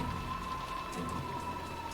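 Steady, dense rain patter from the visual novel Umineko When They Cry, a constant wash of drops on a surface with no pauses or voices.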